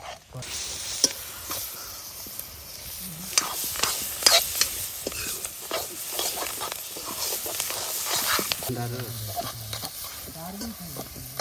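Onions fry in a pan outdoors in the jungle, a steady close sizzle with stirring scrapes, and a voice speaks briefly near the end.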